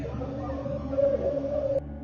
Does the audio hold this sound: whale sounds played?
yes